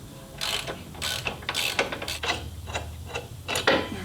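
A ratchet wrench clicks in repeated bursts while loosening bolts on the primary cover of a Harley touring motorcycle, close and crisp with short pauses between strokes.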